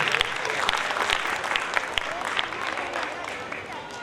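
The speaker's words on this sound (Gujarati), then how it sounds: "તાળી સાથે એનું સ્વાગત કરીએ." A crowd at a primary school Republic Day event claps to welcome a student. Dense, fairly loud applause runs throughout, with a voice faintly heard under the clapping.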